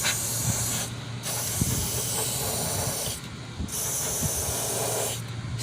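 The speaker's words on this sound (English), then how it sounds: "You just want to spray the crap out of it." Spray paint hisses from a can onto a car's patched rust holes in long continuous bursts, loud and close, with two brief pauses between sprays and no talking.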